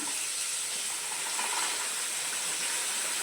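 Tomato masala frying in oil in a home kitchen, a steady close sizzling hiss that stays even and unbroken throughout.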